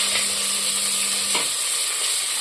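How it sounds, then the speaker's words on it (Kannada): Onions frying in oil with biryani spices for a Chettinad-style mutton biryani, a steady close sizzle with stirring noises throughout, no talking. "ಗೋಲ್ಡನ್ ಬ್ರೌನ್ ಆಗೋವರೆಗೂ ನಾವು ಆನಿಯನ್ನ ಚೆನ್ನಾಗಿ ಬೇಯಿಸ್ಕೊಳ್ಳೋಣ."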